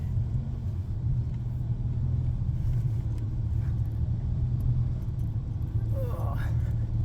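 The engine of a small Mazda car drones and rumbles steadily as it labors up a gravel hill, with constant low road noise and a voice speaking briefly over it near the end.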